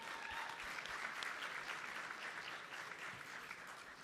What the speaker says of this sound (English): we welcome on stage with a big applause, John, presenting ACF Columbia.